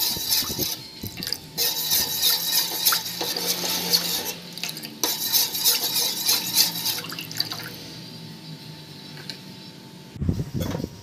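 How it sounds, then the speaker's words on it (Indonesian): Someone stirs corn and mango cream soup ingredients in a pot with the heat off, producing rhythmic scraping and sloshing clinks that thin toward the end, capped by a sharp knock, with no speech. "Dimatikan dahulu apinya, lalu diaduk-aduk semua bahan ya"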